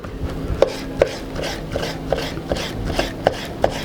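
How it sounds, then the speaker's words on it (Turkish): A knife taps rapidly and evenly on a cutting board while chopping soft sheep tail fat into small thin pieces, with small close knocks about every third of a second and no voices. "Kuyruk yağlarını bu şekilde küçük ve ince doğrayacağım."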